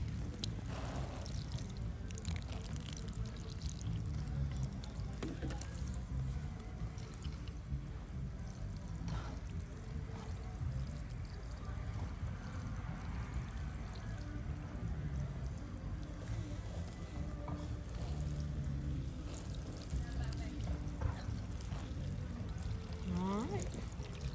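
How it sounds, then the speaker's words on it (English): Water is poured slowly onto the soil around young garden seedlings, a soft continuous trickle and dribble throughout, with a person talking intermittently over it. "We've got our seedlings watered in."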